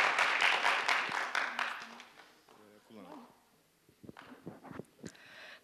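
Audience clapping at a school debate event in Sarayönü Halkapınar as the group spokesperson is introduced, a dense burst of applause that thins out, followed by scattered claps and some talk.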